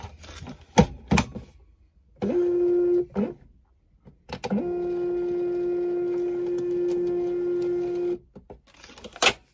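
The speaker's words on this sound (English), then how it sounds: "Open label, print, choose printer, Munbin, 6x4, print." Munbin 6x4 label printer running a print job: a short buzzing feed, then a longer steady motor whir of about four seconds, close by, framed by a few clicks and knocks, no talking.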